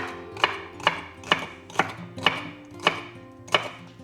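A knife chops cooked octopus on a cutting board, seven even strokes at a steady pace, close and clear with no talking.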